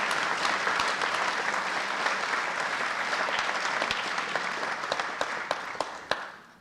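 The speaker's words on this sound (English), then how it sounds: "I'd like to give everyone I just mentioned a big round of applause for having a great athletic" A crowd claps steadily at a spring sports awards ceremony, dense and sustained, thinning out toward the end with a few final isolated claps.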